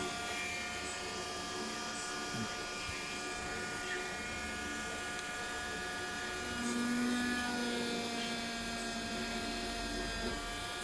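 An electric drill runs steadily while bullets are made for a custom-painted action figure, producing a close, continuous high-pitched whine with a slight pitch change partway through. There is no speech over it.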